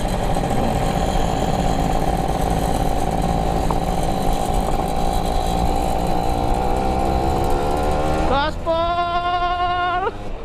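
A Yamaha F1ZR two-stroke motorcycle engine revving on a road in Lampung, a loud steady engine drone that climbs into a sharp rising rev near the end, with someone talking in the background.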